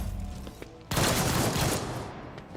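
A sudden loud burst of rapid gunfire erupts in the Warhammer 40k Rogue Trader video game, a dense sustained volley that cuts in after a quieter stretch and slowly fades.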